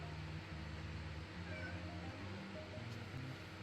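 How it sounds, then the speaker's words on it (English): A house cat meows repeatedly at a door, low, drawn-out cries in an uneven series, fairly quiet against a steady background hum. "My kitty's meowing at the door."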